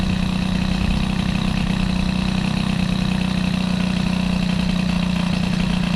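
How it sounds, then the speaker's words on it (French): Peugeot 103 moped with an Airsal 65 air-cooled cylinder kit and modified squish idling at close range, a steady, even low putter with a continuous buzzing drone and no change in pace. "le moteur est hyper stable en ralenti"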